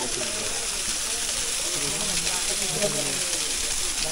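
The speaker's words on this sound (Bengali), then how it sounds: "ঝর্ণাটা আসলে অনেক ছোট ছোট ঝর্ণা" Steady rushing hiss of a small waterfall stream at Himchori in Cox's Bazar, constant and moderately loud, with voices talking softly over the flowing water.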